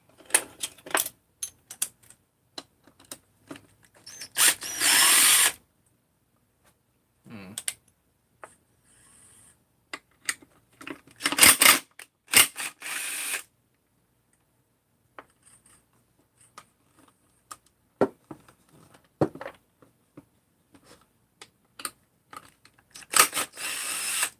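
Bolts being removed to take the gas tank off a motorcycle: sparse, close metallic clicks and short ratchet bursts separated by quiet gaps, with no talk.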